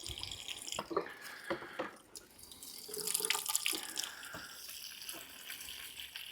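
Water poured into plant buckets with vent holes, splashing and trickling unevenly in short bursts, then a steadier stream, faint and close with no talk.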